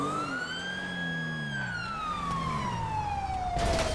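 A police siren wails steadily, its tone sweeping up and then slowly falling, loud and close, with a burst of rough noise near the end.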